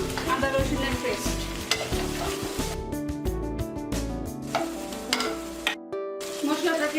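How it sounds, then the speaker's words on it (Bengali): Onion paste and ginger-garlic paste fry and sizzle in a pot while being stirred with steady scraping, all under continuous background music. "মশলাটাকে আমি কষিয়ে নিচ্ছি।"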